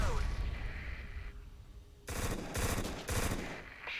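Bursts of automatic gunfire in the shooter game Black, loud repeated rattling volleys in the second half after a quieter stretch of ambient combat noise, with a voice speaking underneath.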